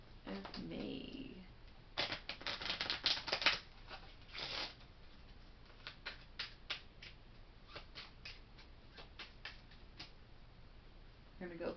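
Tarot cards shuffled and drawn for a Gemini reading, giving soft papery riffles and flicks in bursts, then sparse light ticks and snaps of single cards being handled, close and fairly quiet, with a voice speaking at times.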